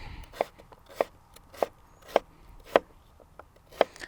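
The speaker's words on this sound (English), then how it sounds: "cutting it into these French fry shapes and then dicing it this direction" A knife dicing an organic potato on a cutting board, crisp regular chops about twice a second, close and clear against a quiet background.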